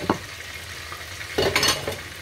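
Sizzling and stirring as chili peppers fry in a pan, with brief scraping bursts near the start and a louder crackling flurry toward the end, no voices.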